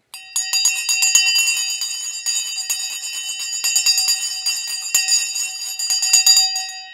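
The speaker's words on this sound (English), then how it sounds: "The bell is now gone." A bell rings continuously at a trading and investing session, a rapid bright metallic clatter that stays steady and fairly loud for several seconds with no talking.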